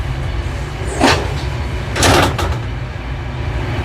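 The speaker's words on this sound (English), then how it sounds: "So when the train is moving, the door's closing" Automatic doors on a passenger train from Bulgaria to Romania slide shut, two distinct sliding thumps about a second apart, close by over a steady low carriage rumble.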